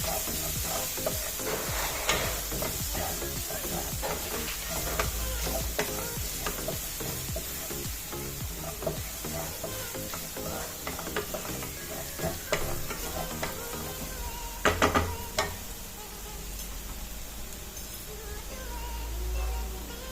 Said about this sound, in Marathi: व्यवस्थित असं तेलामध्ये हे भाजून घ्यायचं आहे